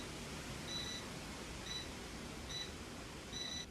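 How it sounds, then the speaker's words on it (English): Faint, high-pitched electronic beeps repeat four times at an even pace over a steady background hiss. "It's still beeping!"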